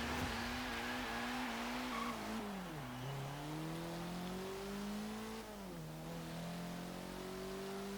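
A Honda Civic Type R's turbocharged inline-4 drones in Forza Horizon 3, pitch climbing through gears with brief dips at shifts, a steady mid-level engine tone with some tire noise and no talking.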